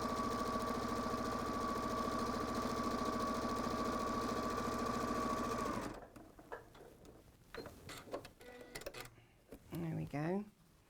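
A sewing machine stitching apron pieces together runs in a loud, steady mechanical whir for about six seconds, then stops. A person then talks amid light handling noises.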